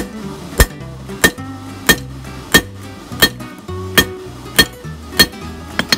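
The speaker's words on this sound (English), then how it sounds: "Now I'm going to hit the rivet again some more." A hammer strikes a rivet on forged knife tongs with about nine sharp, ringing metallic blows at a steady, even pace, close and loud.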